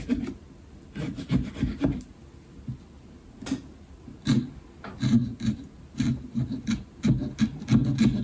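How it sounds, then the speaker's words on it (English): Pumpkin being carved by hand at a carving contest: irregular scraping and rasping strokes of a tool through the rind and flesh, in short bursts with gaps, close and moderately loud. "so I've been carving for quite a while now"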